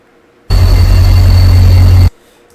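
A heavy 645 E3 diesel locomotive engine in a train simulator game idles with a deep, steady low rumble that cuts in abruptly, holds loud and even for over a second, then stops.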